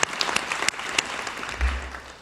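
An audience at a 2023 commencement ceremony applauds graduates' families with a short burst of dense, sustained clapping that fills the hall, and a low rumble rises near the end.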